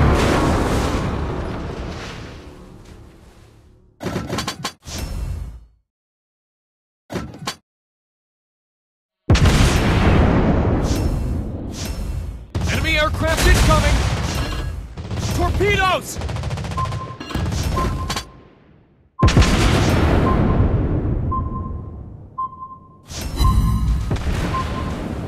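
In World of Warships Blitz, the Italian Tier 4 cruiser Alberto di Giussano fires dense naval gun salvos amid booming ship explosions, in loud bursts broken by brief silences, with game voice callouts and alert beeps mixed in.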